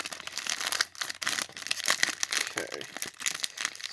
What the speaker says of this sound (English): Let's see if I'm gonna be able to open them like this